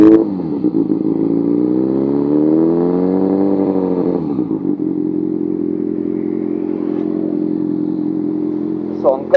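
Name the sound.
Kawasaki ZX6R motorcycle exhaust note while revving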